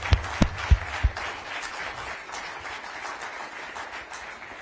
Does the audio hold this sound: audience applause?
yes